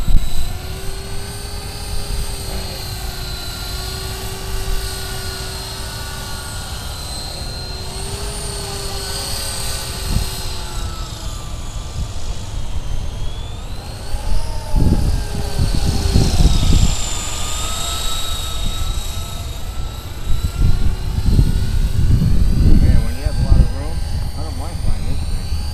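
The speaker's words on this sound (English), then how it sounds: "It's a beautiful helicopter, holy cow." A Walkera Lama 3 RC helicopter flies outdoors on a windy day, its steady high-pitched rotor and motor whine shifting in pitch. Wind buffets the microphone, and people talk excitedly over it.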